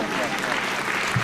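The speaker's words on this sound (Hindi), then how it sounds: "एक बार जोरदार तालियों से आमंत्रित करें भाई" At a Hindi comic poetry event, an audience gives a brief burst of dense, steady applause to welcome poet Durgesh Tiwari, with a voice talking over it.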